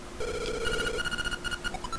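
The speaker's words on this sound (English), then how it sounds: "It's just a phone. It's ringing." A telephone in the video game Link's Awakening rings in rapid trilling electronic bursts, a sustained tone followed by repeated chirping pulses, clear and close with no talk.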